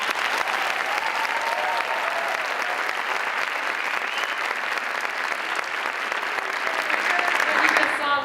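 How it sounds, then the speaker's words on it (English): An audience at a school district address claps steadily and enthusiastically throughout, a dense wash of applause that swells slightly near the end. "so give them a big round of applause."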